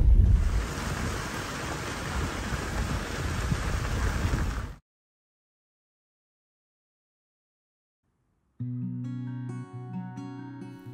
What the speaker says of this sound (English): I've been nesting in the really beautiful, cozy rain.